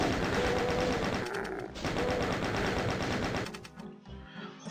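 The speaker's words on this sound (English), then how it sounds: "to use a chain gun at this point." Sustained rapid chain gun fire in the video game DOOM, loud and continuous for several seconds before cutting off near the end, with no talk over it.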